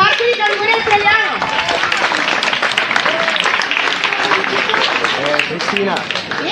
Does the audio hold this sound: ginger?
no